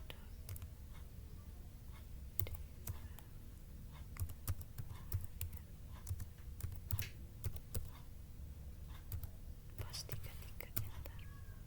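Keys clatter on a computer keyboard as a terminal command is typed, with quick irregular taps and short bursts close to the microphone at low volume, under soft whispered speech.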